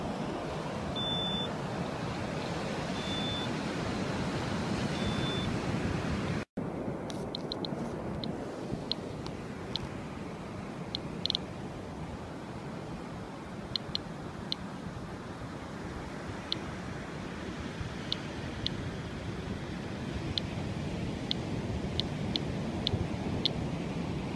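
Radiation detector carried along a beach, giving short, sharp electronic beeps at irregular intervals that grow more frequent later on, over a constant hiss of surf and wind.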